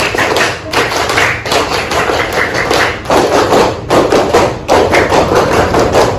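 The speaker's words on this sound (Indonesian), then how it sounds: "Dua kali tepuk pramuka." A school class does the Pramuka scout clap, many children producing loud, rhythmic bursts of clapping and thumping in a repeated patterned sequence.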